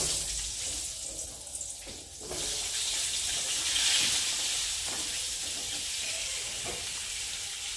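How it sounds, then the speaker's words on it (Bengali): Potatoes fry in hot oil in a wok, giving a steady, close hiss of sizzling that swells slightly partway through and carries on evenly with no talking. "কড়াইতে তেল দেওয়া আছে, আমি আলুগুলো ভেজে নেব।"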